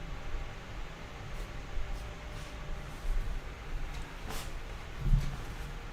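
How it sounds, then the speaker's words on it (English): An electric fan whirs next to a sensitive microphone, a continuous broadband hiss with low rumble and a few faint rustles over its steady drone. "It's because the fan's probably right next to my mic."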